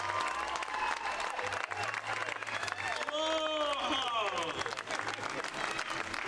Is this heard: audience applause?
yes